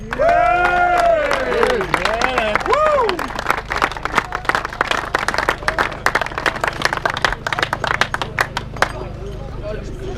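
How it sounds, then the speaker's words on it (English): A crowd at a downhill mountain bike race at Hopton Woods claps and cheers steadily, the sharp bursts thinning out toward the end, while an amplified voice speaks over the start. "Round of applause then for the"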